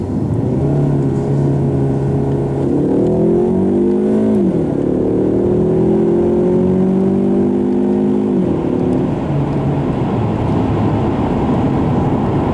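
A 2015 Ford Mustang EcoBoost accelerates hard under full throttle, its turbo four-cylinder rising steadily in pitch through gears with a brief dip at each shift, heard loud and continuous from inside the car.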